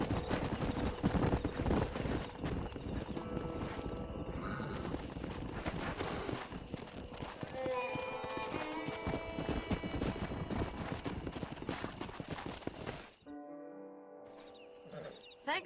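Horse hooves clip-clop in a Red Dead Redemption ranch scene, a dense, steady run of loud hoofbeats with snorts and game sounds that cuts to a quieter bed near the end.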